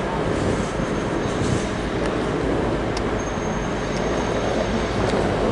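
Loud rumbling of a V/Line N class locomotive train arriving at a platform, with continuous low wheel and engine noise and occasional faint squeals.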